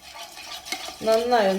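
A spoon stirs a mixture of yeast, sugar and warm water in a bowl, giving a few light clinks and scrapes before a louder run of swirling stirring noise that fills the last half.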